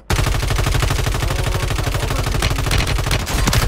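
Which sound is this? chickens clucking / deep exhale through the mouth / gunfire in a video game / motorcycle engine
gunfire in a video game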